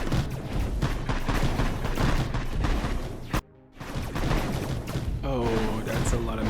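Artillery and turret fire in the Mindustry siege game, tanks on Erekir: dense, rumbling barrages of booms and rapid shots pound continuously, broken by one brief silence before the bombardment resumes at full loudness.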